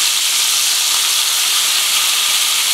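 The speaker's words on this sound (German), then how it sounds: "Nach ungefähr 3 Minuten kommt der Saft einer halben Zitrone in die Pfanne. Das wird dann aufschäumen," Lemon juice from half a lemon foaming in a hot pan with frying cod fillet, a loud, bright, continuous hiss that holds steady throughout with no speech.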